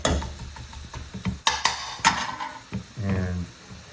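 Garlic frying with onions in a pan for chicken adobo, a soft sizzle under frequent clinks and scrapes of a utensil against the pan.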